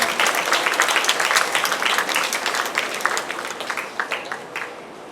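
Audience applause at a school Diwali award ceremony: a dense, loud burst of many hands clapping that slowly thins and fades toward the end.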